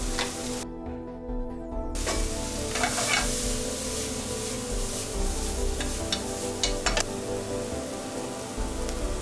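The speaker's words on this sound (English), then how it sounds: "Add paprika and pepper, mix for an average of 5 minutes." Sizzling frying in a pan while baked potato filling with paprika and pepper is stirred, a steady close hiss with occasional scraping strokes of the utensil, no talking.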